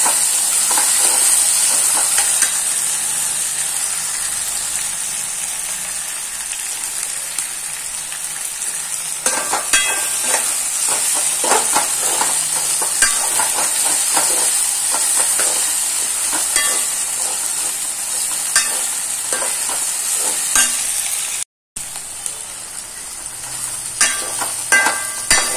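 Green chilies sautéing in coconut oil make a loud steady hiss and sizzle over a long stretch, with intermittent scraping and stirring clicks up close and a brief dropout near the end, no talk.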